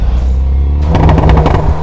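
A Hyundai N car's exhaust pops after lifting off the accelerator: a low engine rumble followed by a quick burst of crackling pops, loud and close, with no talking.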